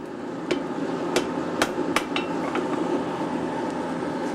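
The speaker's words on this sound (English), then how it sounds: "Using the bick iron, turn the end in with the hand hammer to form the other end of the link." A hand hammer rings out sharp, bright blows on a bick iron while forging the end of a chain link in a traditional chain shop, with about six irregular, ringing strikes over steady shop background noise.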